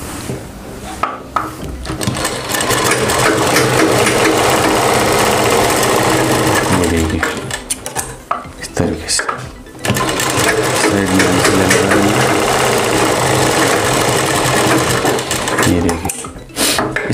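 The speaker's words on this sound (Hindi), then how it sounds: "अब हमें यहाँ पे सिलाई लगा देनी इस साइड में और इस साइड में।" An electric sewing machine stitches a side pocket on a kurti in two long loud runs of rapid whirring needle action, separated by a brief pause, then stops near the end.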